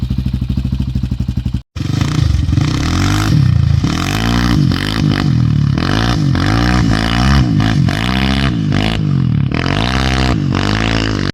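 A motocross bike engine starts on the first kick without throttle and then revs hard and loud up close, its roaring pitch rising and falling in repeated bursts over a steady rough idle.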